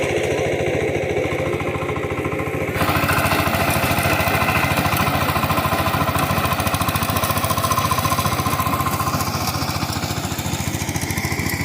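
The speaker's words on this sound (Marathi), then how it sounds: "हा ट्रॅक्टर चिखल करतोय." A tractor engine chugs loudly and continuously at close range while puddling mud in a paddy field in Konkan, a dense rapid rhythmic pounding that steps up in intensity after a few seconds.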